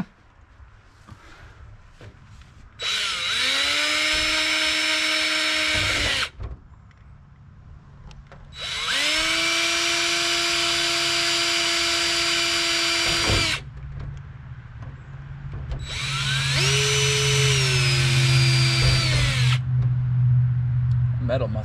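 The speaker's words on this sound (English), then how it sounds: "Drill some more holes in my trailer." A power drill bores holes through the thin metal wall of a race trailer in three long bursts of whining motor, each running several seconds with quieter pauses between, the last burst over a low idling vehicle hum.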